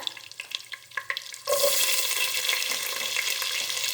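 Vegetables going into hot oil for vegetable biryani, a few light clatters and stirring strokes, then a sudden loud, sustained sizzle as they hit the pan, steady and close.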